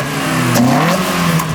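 Toyota AE86 with a Yamaha-developed engine on individual throttle bodies revs up close and loud, its pitch climbing and falling as the throttle is worked, with no talking over it.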